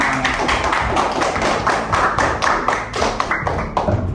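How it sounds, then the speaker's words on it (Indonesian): A classroom of students claps for their classmate Nina during an Islamic studies lesson, a dense, close burst of many hands with uneven, overlapping slaps that holds steady for several seconds. "kasih tepuk tangan buat Nina"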